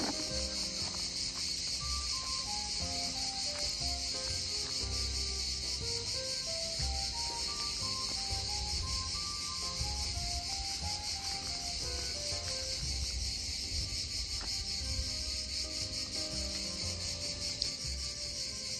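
Steady, dense insect buzzing fills the air throughout, a continuous summer drone of cicadas in an Italian vegetable garden, with faint melodic tones drifting beneath it.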